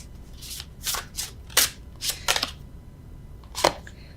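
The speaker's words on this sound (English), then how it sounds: "Normally I riffle shuffle, but I don't feel like it." Crisp bursts of tarot cards being shuffled, several quick riffling rustles spaced a half-second apart, close up with no talking.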